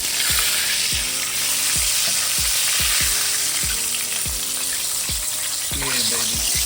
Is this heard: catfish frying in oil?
yes